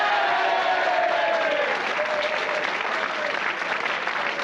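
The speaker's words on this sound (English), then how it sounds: "please, a round of applause for William Gaskill" Studio audience at a 1984 British quiz show applauds a new schoolboy contestant, steady sustained clapping with a few whoops early, holding at an even level throughout.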